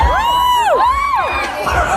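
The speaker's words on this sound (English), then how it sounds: "everybody's cheering for this man to have no clothes." Concert crowd at a show at House of Blues Myrtle Beach cheering loudly, with high rising whoops and shouts over a dense roar.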